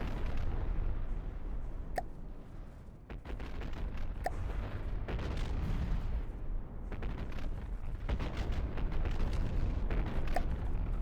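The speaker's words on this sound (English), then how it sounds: "which is why all of her large guns are firing" Large naval guns on a warship firing in From the Depths, a dense, continuous barrage of heavy booms and rumbling blasts rolling over one another without pause.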